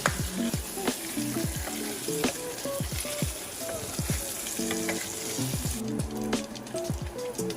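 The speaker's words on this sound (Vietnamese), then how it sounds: "Đảo đều tay cho mỡ nó được vàng đều hết các mặt." Pork fat sizzles and crackles steadily in a hot pan, with scraping clatters of a utensil stirring it throughout.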